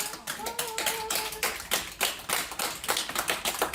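Hospital staff in Birmingham applauding a patient recovered from Covid-19 as she leaves, heard as uneven bursts of nearby hand clapping, with a brief tonal voice-like sound early on.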